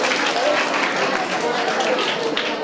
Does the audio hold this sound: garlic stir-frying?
no